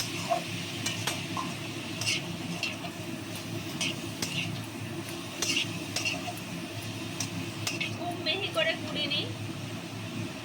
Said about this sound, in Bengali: এই দেখুন গাজরটাকে সুন্দর করে ভেজে নেবো ঘিয়ে